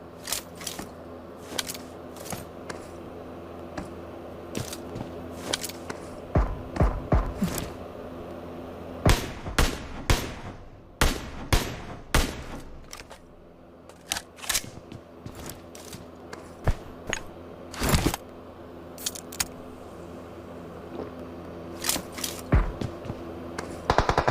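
Gunfire in a shooter video game, scattered sharp shots and short bursts spread across the stretch, some loud and close, others fainter, over a steady low background hum.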